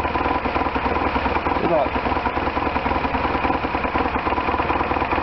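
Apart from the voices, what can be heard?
1998 BMW R1100RT motorcycle engine idling after throttle body tuning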